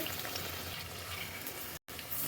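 Kachori deep-frying in hot oil gives a steady, soft sizzle and crackle at close range, broken by one very brief dropout, with no talking.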